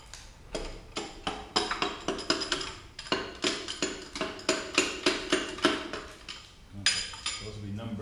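Metal hammering knocks a piston out of a seized LS 6.0 V8 engine, a rapid series of sharp, ringing metallic blows in uneven bursts heard up close.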